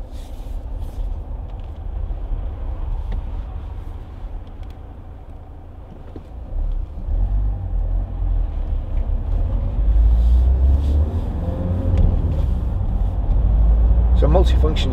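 A 2014 Vauxhall Astra 2.0 CDTi ecoFLEX diesel car driving, heard from inside as a steady low engine and road rumble that grows louder and deeper partway through, with a voice talking over it.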